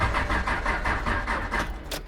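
A Mazda 3 engine cranks without catching, the starter churning in a steady rhythmic whir of about eight even pulses before it cuts off.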